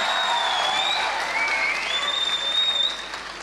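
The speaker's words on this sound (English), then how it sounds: "Huge round of applause is required for this artist." An audience applauds a student artist at a school event, a steady crowd of clapping hands heard at moderate distance, with faint voices and a thin whistling tone drifting over it.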